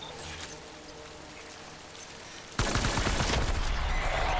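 Gunfire erupts in the video game Death Stranding: after a quiet stretch of low background ambience, a loud, sustained burst of rapid shots breaks in abruptly and keeps going to the end.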